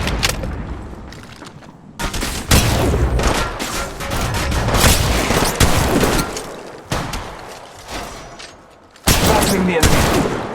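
Shotgun blasts and gunfire from a battle in the Apex Legends Mobile video game, loud and continuous with sharp bursts near 2, 2.5 and 9 seconds, partly under brief game voice lines.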